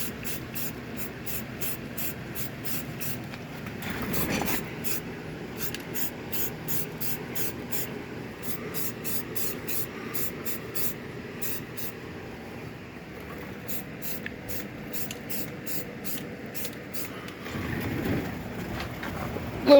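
Light coats of spray paint hiss onto a Jeep Wrangler YJ fender in a body shop, short repeated bursts in steady clusters with brief pauses, moderately close over faint background noise.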